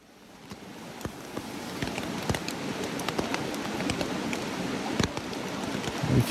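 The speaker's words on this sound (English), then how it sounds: "If you can hear that, it's rain." Steady rain patters on a campsite in the outdoors, a dense even hiss with scattered sharper drops striking nearby surfaces, fairly close and continuous with no talking.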